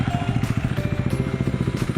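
A motorcycle engine idling nearby with a steady, throbbing putter, loud and continuous.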